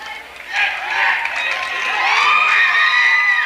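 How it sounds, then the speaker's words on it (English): Hometown basketball fans at a high school varsity game cheer and whoop for player Jack Foley, the crowd noise swelling from scattered shouts into sustained applause and cheering that fills the gym. "Jack Foley gets a nice round of applause from the hometown fans"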